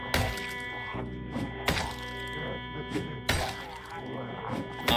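A fire axe strikes repeatedly in the Project Zomboid video game, giving several sharp thunking, shattering hits spaced roughly a second or two apart, with people talking between the blows.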